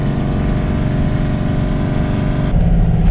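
A camper van engine labours loudly in second gear while climbing a hill on Turkey's south coast, a steady close drone that swells slightly near the end.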